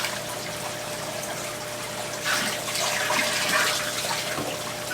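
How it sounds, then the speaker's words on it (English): An air pump keeps water circulating in a saltwater mudskipper tank, giving a steady close bubbling wash with a faint constant hum underneath. "I've got a air pump over here that's pushing the water to keep it circulating"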